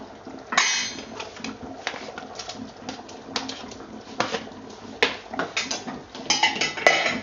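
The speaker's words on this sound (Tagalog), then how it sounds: "Give it a good stir." Lamb caldereta gets stirred in a cooking pot, with a spoon scraping and clinking against the metal in irregular bursts, sharp knocks and rattles coming close together.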